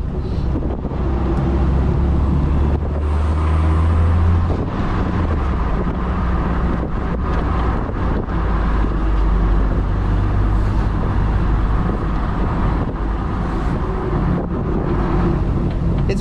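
A small open-top Moke car drives along the roads of Praslin in the Seychelles, its engine a steady low drone mixed with heavy wind buffeting across the microphone, continuous and close throughout.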